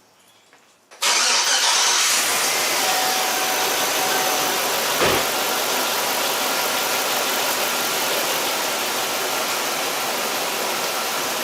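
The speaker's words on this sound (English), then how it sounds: "I'm going to start the car" A car engine is started with a short crank and catches, then runs steadily at a loud, even idle close by; the setting is a diagnostic check for a misfiring cylinder.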